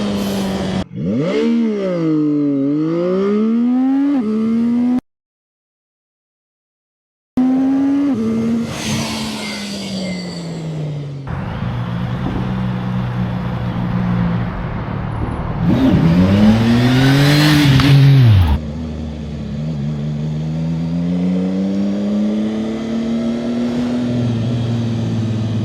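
A CFMoto 675SR-R motorcycle accelerates hard from standstill, its engine note climbing repeatedly through the gears with sharp drops at each shift. The loud, close revving breaks off briefly and then resumes with more rising pulls.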